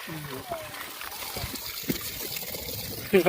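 Water from a 3 hp PMSM solar pump trickles and splashes steadily nearby, with voices talking over the flow.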